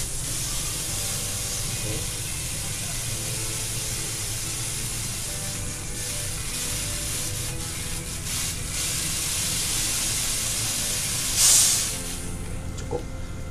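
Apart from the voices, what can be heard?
gas hissing while emptying portable canister refilled from LPG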